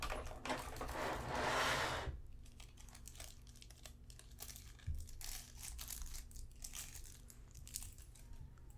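Plastic packaging crinkles as a Bloodborne Figma figure is unboxed, a close, bright burst of crackling for about two seconds followed by quieter scattered rustles and small handling clicks.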